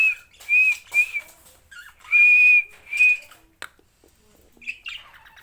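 A man whistles to call trained Australian parrots, giving several clear, loud, sustained whistle notes in a loose rhythm, followed by a short bird squawk and chirps near the end.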